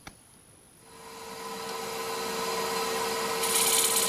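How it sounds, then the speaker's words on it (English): A 3/8 swept-back gouge cuts wood on a lathe, a steady close rasping hiss that builds after a quiet start and keeps going with no talk. "Using a 3/8 swept back gouge there."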